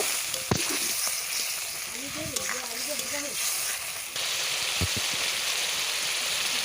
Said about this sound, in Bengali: একটা বাটিতে কিছুটা জল নিয়ে হলুদ নুন লঙ্কার গুঁড়ো দিয়ে ওই জলটা দিয়ে ভালো করে কষিয়ে নেব